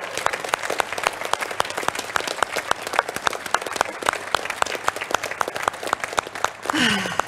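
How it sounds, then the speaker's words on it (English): Awards ceremony audience applauding, sparse distinct claps from a smallish crowd with a murmur of voices, ending in a brief cheer. "a big round of applause to everybody"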